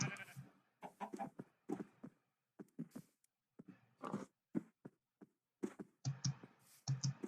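Minecraft sheep bleat in short, repeated calls at close range, with soft clicks scattered between them.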